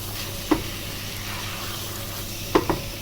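Chicken pieces frying in a karahi for a Sindhi-style green chilli namkeen karahi give a faint steady sizzle, broken by two or three brief scraping stirs; no one speaks.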